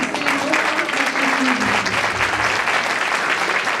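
A crowd applauds, a dense, steady clapping that holds for several seconds without a break.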